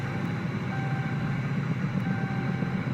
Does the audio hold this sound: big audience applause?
no